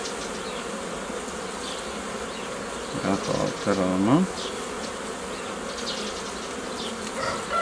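Honeybees buzz steadily around frames lifted from a nucleus hive during spring hive work, a dense droning hum throughout with a few louder passes close by, and someone speaks briefly over it.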